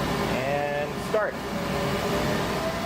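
A large Océ Arizona 6170 XTS flatbed UV printer runs with a steady, even mechanical hum and airy whir, with a brief higher whine partway through.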